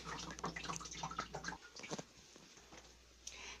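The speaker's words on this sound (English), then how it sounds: "it will push on the mix of paper and force the water down into the drainage bucket" Water squeezed out of a wet recycled-paper pulp mix into a drainage bucket, heard as soft, irregular wet squelching and trickling patter close by, fading after about a second and a half with a brief splash near the end.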